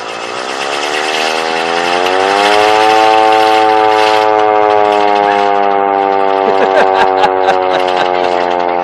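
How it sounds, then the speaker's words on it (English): A hand-cranked air raid siren, model 447, wails loudly and steadily, its pitch climbing and then holding as the crank spins, with a few clicks near the end. "a little tag that says that it is an air raid siren, model 447"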